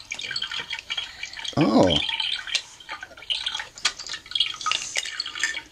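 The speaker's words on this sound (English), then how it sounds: "So it makes water sounds," A short burst of bubbling, dripping water from a Barbie Fantastic Food Truck toy over a busy background of clicks and clatter, with a brief exclamation from a voice.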